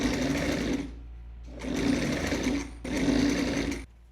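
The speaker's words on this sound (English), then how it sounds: "Now I'm just going to zigzag stitch the entire raw edge" Sewing machine zigzag stitching along the raw edge of pants fabric, three close bursts of rapid whirring stitching separated by short pauses.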